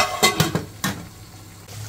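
Potato slices frying in a pan, a few quick scraping stirs and clinks over a soft sizzle, close and fairly loud, without voices.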